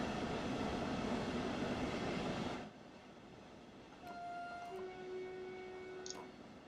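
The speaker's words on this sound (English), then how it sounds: "Odd sounding horns, the German locos as well" German electric locomotive in Train Sim World: a broad rumbling run gives way to quieter cab noise, then two faint, steady horn tones sound one after the other.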